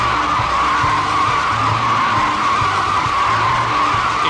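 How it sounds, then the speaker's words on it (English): Car tires screeching in a burnout in the racing game Need for Speed Most Wanted, on an electric car: a loud, continuous high-pitched squeal over a low engine drone, sustained without a break. "I blew both my rear tires because I burned all the rubber off"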